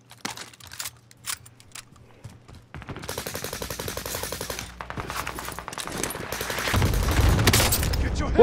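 Cluster strike explosions in a video game: a dense, rapid rattle of blasts and gunfire-like bursts that begins after a few quieter clicks and swells into a loud, sustained barrage toward the end.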